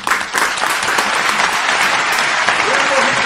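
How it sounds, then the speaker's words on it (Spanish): Dense, steady applause from an audience for a salsa urbana artist at the close of an interview, loud and sustained throughout with a voice faintly beneath it. "Así que merece otro aplauso"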